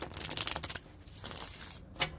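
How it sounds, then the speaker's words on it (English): Tarot cards riffled and shuffled by hand in a brisk burst of crisp papery flicks, followed by a softer rustle and a final snap of the deck, close and fairly quiet with no talking. "2 more shuffles for the person you're dealing with"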